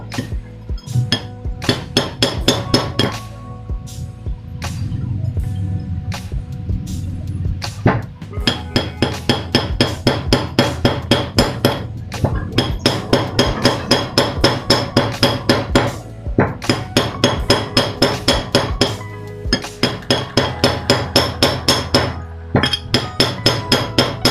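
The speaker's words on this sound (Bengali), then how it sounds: "এই বাটালি দিয়ে এখানে এরকম বন্ধুরা এই ঘাট কাটবো" Hammer striking a chisel to cut a groove in a ceiling fan during a bearing change, a long series of sharp metallic blows, close and loud, in quick steady rhythm with a few short pauses.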